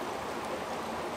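A forest creek flows in a steady, broadband rush of water, close and continuous, with no voices.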